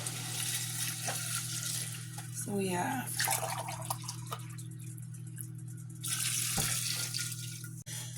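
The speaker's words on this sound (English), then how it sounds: "Let's go ahead and start adding in our water." Water poured into a cooking pot with browning meat juices while making Oaxacan yellow mole, a steady splashing rush under a constant hum, with a person talking briefly.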